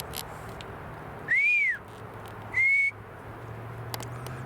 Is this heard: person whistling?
yes